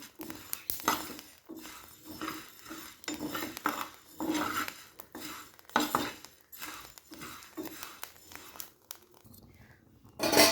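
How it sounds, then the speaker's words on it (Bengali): Rice grains stirred in a dry pan without sand or oil to puff them into muri, a dense series of scraping, rattling strokes against the metal in uneven bursts, close by with no talking. "এভাবে কিন্তু নেড়ে নেড়ে দিতে হবে। একটু কিন্তু ধৈর্য ধরে ভাজতে হবে"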